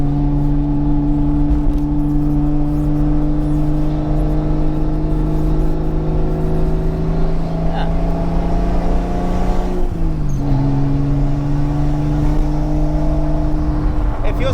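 A 1979 Toyota Cressida saloon driving, heard from inside as a loud, steady engine drone with a brief dip and shift around the tenth second, continuing evenly to the end.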